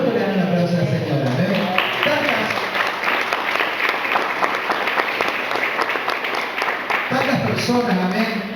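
Church congregation applauding, a sustained wave of clapping from many hands, loud and close, with voices briefly audible at the start and end.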